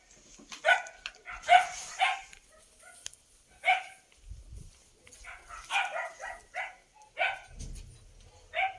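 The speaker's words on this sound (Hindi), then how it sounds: "कुत्ते हल्ला कर रहे हैं।" Several dogs bark in irregular, scattered yaps and yips, some sharp and some muffled, at a moderate distance with quiet gaps between the bursts.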